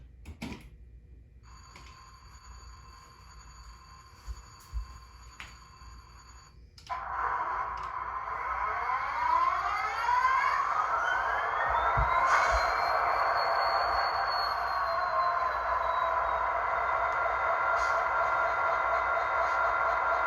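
An NS SD60E diesel locomotive starting up: quiet mechanical ticking and tones at first, then a sudden rise into a loud, steady engine roar with a whine sweeping upward as it spools, sustained to the end.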